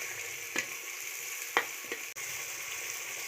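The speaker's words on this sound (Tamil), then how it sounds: "நம்ம எண்ணெயிலே போட்டுட்டேன்." Curry leaves frying in hot oil, cooked at home for a clay-pot fish curry, make a soft continuous sizzle with a few sharp crackling bursts and one brief clack.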